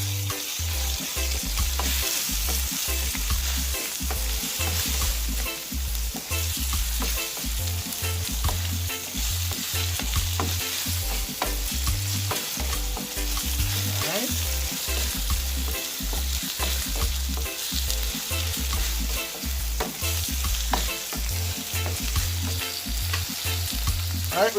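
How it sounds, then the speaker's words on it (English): Chicken penne pasta seasoned with black pepper and salt is stirred in a pot on slow heat, producing a continuous close frying sizzle with constant spoon scraping throughout, no talking. "You stir nicely"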